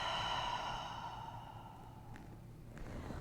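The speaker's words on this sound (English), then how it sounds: "Take a big breath. And exhale fully." A big, full exhale drawn out as a long breathy sigh during a yoga recovery stretch, loud at first and fading over a few seconds, close and alone with no talk.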